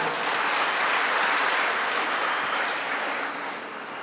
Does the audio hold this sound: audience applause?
yes